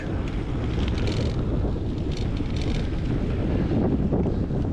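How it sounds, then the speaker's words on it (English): Strong wind buffets the microphone while crossing the bottom of a valley by the River Isla in Glenisla, Scotland, a loud continuous low rumble that never lets up. "Oh, the wind's so strong here."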